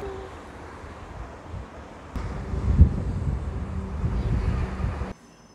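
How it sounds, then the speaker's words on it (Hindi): Strong wind blowing across an open terrace under a rainy sky, a steady broadband rushing roar that swells louder partway through with gusty buffeting, then cuts off abruptly near the end. "बहुत तेज़ हवा चल रही है,"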